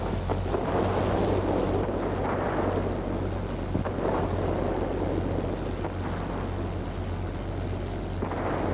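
Aircraft engines roar with explosions and gunfire in World of Warplanes, a continuous loud droning rumble with dull booms and rattling bursts woven through it.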